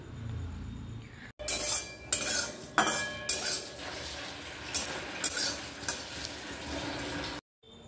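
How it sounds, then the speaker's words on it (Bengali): Whole cumin and dried red chillies are dry-roasted in a kadai for a mango and jaggery pickle, heard as a run of close metallic spoon scrapes and clinks against the pan, with no talking. "এবার আমি দেখো গোটা জিরে শুকনো লঙ্কা নিয়েছি, এটাকে আমি ভেজে নেব।"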